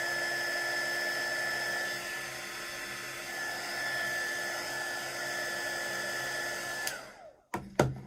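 A heat gun heat-setting embossing powder on cardstock, a steady whining blower hum that runs for several seconds and then cuts off with a few clicks and knocks.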